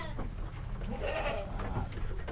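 A goat bleats near a livestock trader's stall, a wavering bleat rising in the middle amid a busy, noisy background.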